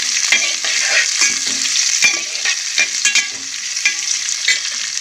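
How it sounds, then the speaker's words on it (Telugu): Green chilies and chopped onions frying in a hot pan for a fish curry, with steady bright sizzling broken by repeated scraping stirs of a utensil against the pan; close and fairly loud, no talking. "ఇప్పుడు పచ్చిమిరపకాయలు ఉల్లిపాయలు వేస్తాను ఇది చక్కగా ఫ్రై చేస్తాను"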